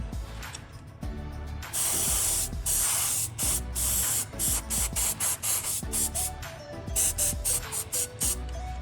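Primerless lacquer hisses from a spray can onto a Gundam model kit in repeated short bursts, loud and close, separated by brief pauses, with no talk.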